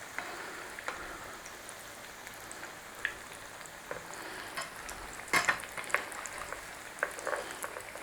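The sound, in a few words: chicken shawarma potato cakes frying and being turned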